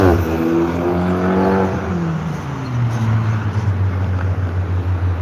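Several cars decked out in Christmas lights drive past on a neighborhood street at night, a steady close engine hum with a rising then falling pitch as one vehicle accelerates and passes.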